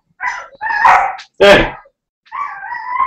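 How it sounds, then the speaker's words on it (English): Dogs wrestling indoors give off close, loud bursts of barking, yips and growly whines in quick uneven bursts, with a person shouting once over the scuffle. "Dogs are wrestling."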